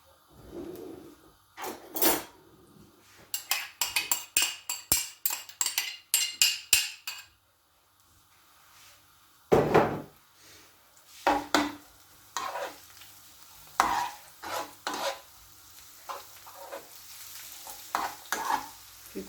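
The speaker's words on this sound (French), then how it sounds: "Je vais mettre donc les oignons." Onions frying in oil in a pan, with a bright sizzle and repeated, rapid scraping and stirring strokes in close clusters separated by brief quieter pauses.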